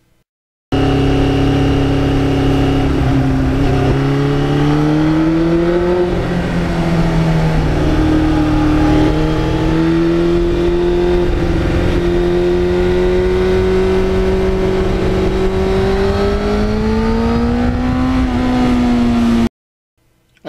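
A restored 1991 Yamaha FZR 1000 motorcycle engine drones loud and close for about twenty seconds, its pitch rising and falling smoothly as it is revved, with no talk over it.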